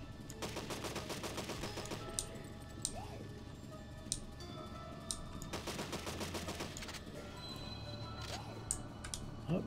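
Automatic gunfire in the video game Deadly 30 comes as rapid rattling bursts, one at the start and another midway, with scattered single clicks and shots over a steady game background.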